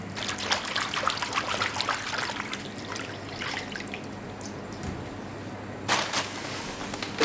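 Brewer's yeast is stirred by hand into water for Neapolitan pizza dough, a close, continuous trickling and sloshing with small splashes and a brief louder swirl near the end, with no talk.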